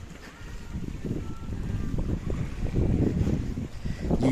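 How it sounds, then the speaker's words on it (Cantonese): Marine park patrol boat of the fisheries and conservation department on the water by a pier in a coastal protected area, a low rumbling engine drone with wind and water noise, distant and steady. "哦，呢隻海岸公園嘅船嚟嘅喎。"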